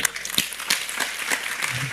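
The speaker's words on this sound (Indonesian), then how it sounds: "Bertahap, ya, tepuk tangan ya." Audience applause during an Indonesian talk gathering, dense broadband clapping running steadily throughout, with a few sharper claps standing out and a faint voice underneath.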